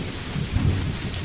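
Rain falling with a low rumble of thunder during a rainy day in the farming game Dinkum, a steady wash of rainfall that swells briefly as the thunder rolls, with no talking.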